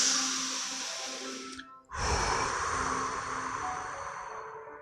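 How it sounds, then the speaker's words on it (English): A long, deep exhale during a guided meditation, breathy and close, followed by a brief pause and a second strong outward breath that tails off slowly. "I want to hear you breathing out."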